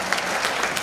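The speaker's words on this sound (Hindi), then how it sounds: "एक बार जोरदार तालियों के साथ में आपका स्वागत अभिनंदन करें।" Brief burst of audience applause welcoming a guest at a gurukul class event, steady dense clapping from a group, fairly soft and short.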